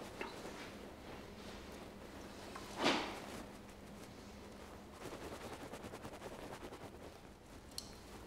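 A single sharp rifle shot cracks at a soap self-portrait in an artist's studio. It is close and fairly loud against a quiet background, followed later by faint clicks and handling noises.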